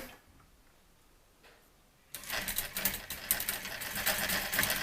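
A sewing machine stitches a half-inch seam on fabric for a box-style swag, starting with a short back tack; after a quiet pause the motor kicks in suddenly and runs loud and steady with a rapid mechanical ticking.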